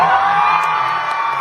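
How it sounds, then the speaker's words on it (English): A crowd cheers wildly, a dense, loud roar of whoops and yells that holds steady throughout. "And the crowd goes wild."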